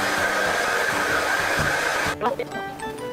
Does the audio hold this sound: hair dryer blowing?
yes